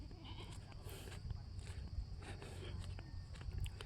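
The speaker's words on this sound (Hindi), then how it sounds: "ये बच्चे छुट्टी है, बकरी चरा रहे हैं।" Goats grazing outdoors bleat repeatedly at a distance, with scattered calls over a steady bed of outdoor noise and footsteps, while people talk faintly nearby.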